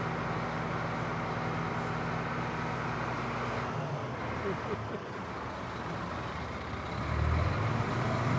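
A garbage truck collecting rubbish in the village of Eckelrade idles with a low diesel rumble, then its engine swells louder near the end, while people talk nearby.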